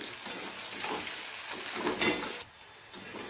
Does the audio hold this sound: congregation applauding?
no